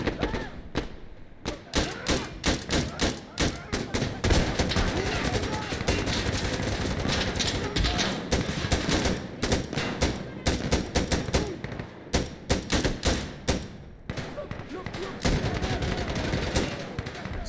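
Rapid gunfire from Insurgency: Sandstorm checkpoint gameplay on Xbox Series X, with dense bursts of automatic shots and loud cracks repeating almost continuously at close range.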